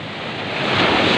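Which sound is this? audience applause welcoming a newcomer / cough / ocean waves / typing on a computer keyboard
ocean waves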